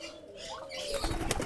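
Young Giribaz pigeons flap their wings in a brief flurry that grows louder near the end, with a faint coo in the background and no voices.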